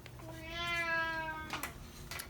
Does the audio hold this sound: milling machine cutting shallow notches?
no